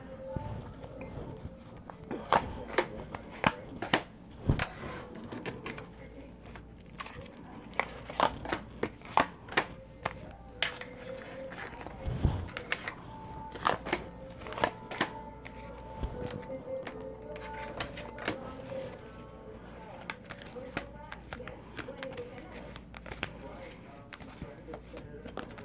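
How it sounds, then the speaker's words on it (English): Oracle cards are shuffled by hand in repeated bursts of crisp riffling and tapping, close and fairly quiet, with short pauses between handfuls. "I shuffled these up a little bit"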